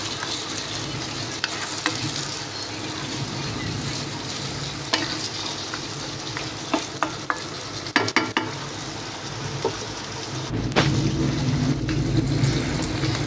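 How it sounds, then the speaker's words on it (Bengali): Potato and pumpkin being stir-fried with meat in a pan for khichuri, a steady sizzle broken by repeated scraping stir clicks, with a louder, fuller frying burst near the end; no talking. "এখন আমি আলুটাকে আর কুমড়াটাকে বন্ধুরা অল্প কিছুক্ষণ মাংসের সাথে একটু কষিয়ে নেব।"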